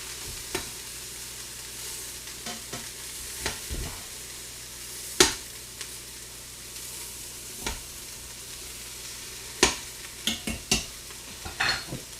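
Vegetables stir-frying steadily in a frying pan or wok while a utensil stirs them, giving irregular sharp clicks and scrapes against the metal; no one speaks.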